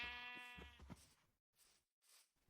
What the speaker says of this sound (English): Oh, there's a sheep up there.